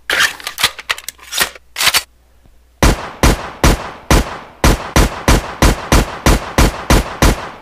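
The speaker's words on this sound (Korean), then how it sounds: "발사도 잘 되고 있어요." Gunfire in a Unity VR shooting game: a few scattered shots, a short pause, then a steady rhythmic run of about fourteen loud, evenly spaced shots with no talking.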